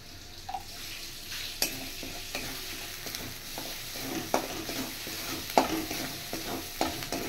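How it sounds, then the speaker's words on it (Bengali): Ground cumin, turmeric and chili powder sizzle and fry in a pan, stirred steadily with a spoon that gives occasional sharp scrapes and clinks, a continuous close frying hiss with no voices. "এবার আমি আরেকটু ফ্রাই করে নেব"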